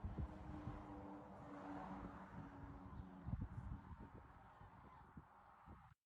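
Flock of geese honking continuously, many overlapping calls at moderate distance, fairly faint over a steady outdoor rumble.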